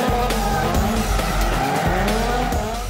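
A drifting car with screeching tire squeal and a revving engine, loud and close, the squeal rising and falling continuously with no talking.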